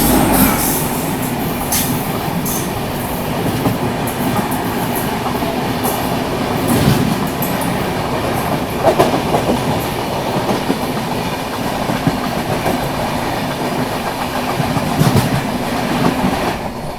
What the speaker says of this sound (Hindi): अभी देखो DDU के आउटर पे है अपनी ट्रेन